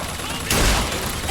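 Gunfire in the video game Bioshock Infinite: a sudden loud burst of shots erupts midway through and rings out over a busy, noisy game background, with a second smaller crack near the end.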